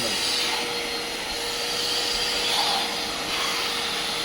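Hotstar wet and dry home vacuum cleaner runs with a loud, steady high-pitched whine and airy rush, swelling slightly as it moves, with a voice faintly underneath.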